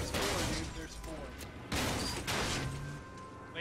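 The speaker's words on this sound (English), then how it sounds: "Lay down suppressive fire." Gunfire in the video game H1Z1 comes in several sharp, loud bursts of shots spread across a few seconds, with players talking over the exchange.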